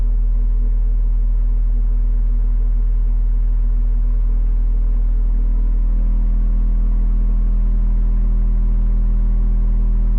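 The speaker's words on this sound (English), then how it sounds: "Let's try a 40 hertz test on a subwoofer" A Hyenka 15-inch subwoofer plays a 40 Hz test tone, a loud, steady, unbroken low hum with faint overtones, holding constant for the whole stretch with no voices.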